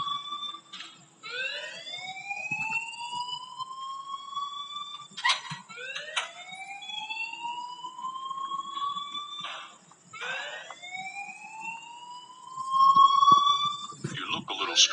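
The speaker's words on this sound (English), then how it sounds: "please turn off that alarm since that's your job" Rising electronic alarm in the Life Is Strange video game, repeating sweeping whoops every couple of seconds, loud and steady, with speech over parts of it.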